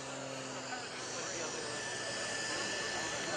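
Gary Ward's MX2 aerobatic airplane drones steadily as it comes in to land at a lakeside airshow, a constant engine tone with a faint rise partway through.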